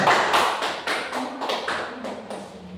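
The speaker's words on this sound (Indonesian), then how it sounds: "Kelompok lain silakan kita berikan aplaus untuk kelompok 2" A classroom group claps for a presenting team, giving dense, close applause that fades gradually over a few seconds.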